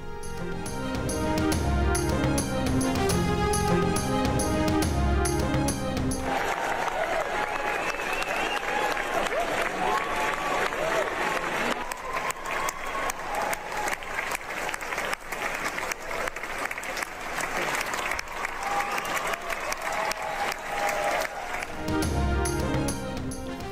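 Audience applause fills a hall at the close of a play at the Royal Opera House in London, a dense, steady clapping that runs loud and unbroken throughout, with crowd noise mixed in.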